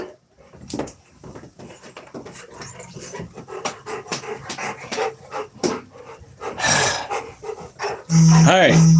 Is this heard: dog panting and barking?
yes